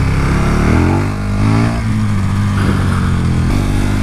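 A 2017 KTM Super Duke 1290 R motorcycle engine revs loudly and close, a steady deep drone that swells and dips with throttle blips as the bike rev-matches on downshifts, with no talking over it.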